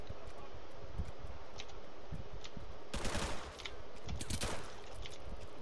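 Gunfire crackles in a police-themed video game, a dense steady bed of rapid shots with two louder bursts near the middle and end, and no talk over it.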